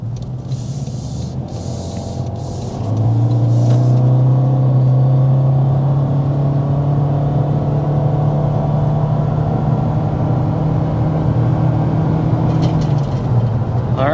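A 2025 Toyota Corolla Hybrid accelerating hard uphill: a steady engine drone swells in as the pedal goes down and holds a sustained, rising whine for about ten seconds inside the cabin, then eases off.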